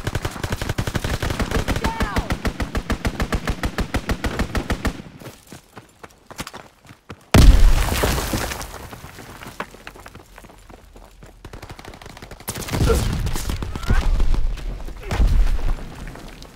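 Strafing gunfire from a fighter plane in the World War II shooter Call of Duty WWII, multiplayer Domination on Gibraltar: a long rapid burst of loud shots, then booming impacts and rumbling blasts spaced apart.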